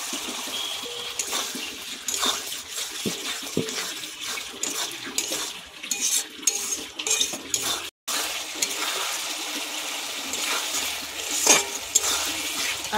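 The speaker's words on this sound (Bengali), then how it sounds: "আর একটু ভালো করে কষে নেব।" Chela fish curry is stirred and sautéed in a pan, a utensil scraping and knocking repeatedly against the metal over a soft continuous sizzle, with no talking.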